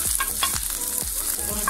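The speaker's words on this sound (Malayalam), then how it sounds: "കടുക് പൊട്ടുന്നുണ്ട്" Mustard seeds splutter in hot oil for a Kerala-style chicken curry, with several sharp, close pops crackling over a steady sizzle.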